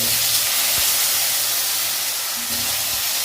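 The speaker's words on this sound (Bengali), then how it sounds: "দেওয়ার পরে এই আলুগুলো আমরা ভেজে নেব।" Potatoes frying in hot oil in a Bengali fish curry kitchen, a steady, loud broadband hiss of sizzling that holds unbroken for a few seconds, no voices.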